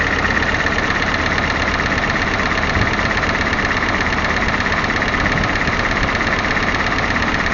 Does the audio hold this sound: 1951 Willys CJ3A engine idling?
yes